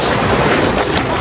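Waves wash at a beach with clear water at Cuba, a steady broadband rush of surf and wind, close and fairly loud, with no talk.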